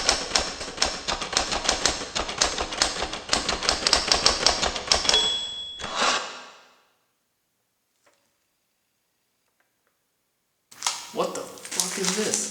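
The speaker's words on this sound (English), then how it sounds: "Can you really save your game with a typewriter?" Rapid, steady typewriter clacking from the save point in the Resident Evil 3 video game runs for about five seconds and ends in a bell-like ding. Silence follows, then game sound returns.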